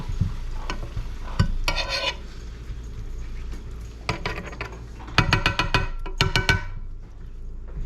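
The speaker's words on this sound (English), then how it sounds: "Now we're getting a nice sizzle" Food sizzles steadily in a hot pan while a spoon scrapes and clatters against it in bursts of stirring, close and fairly loud.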